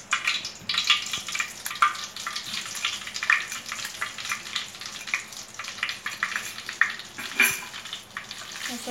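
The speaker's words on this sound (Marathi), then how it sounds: "डायरेक्ट तेलात मसाला टाकला" Masala spices frying in about five spoons of hot oil in a pot, a steady close crackling sizzle with bursts of popping and occasional stirring scrapes, no voices.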